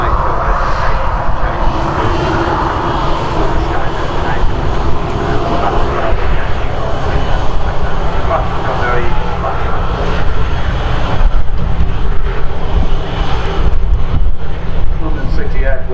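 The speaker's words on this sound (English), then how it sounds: "the Embraer 190 has just arrived from London City" An Embraer 190 airliner, arrived from London City, roars at Manchester Airport with a loud, steady jet engine rumble that holds throughout and swells slightly toward the end, close and dominant.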